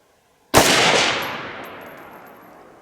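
One sharp, very loud shot from a Radical Arms 6.5 Grendel rifle at an outdoor range, fired at a 100-yard target, with a long, echoing decay that rolls away for over two seconds and no voices.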